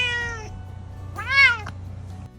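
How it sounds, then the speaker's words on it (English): A cat gives two drawn-out, wavering meows that rise and fall in pitch like a baby's cry, close and clear over a low steady hum, with a pause between them. "a unique purr cry sound that mimics the frequency of a baby's cry"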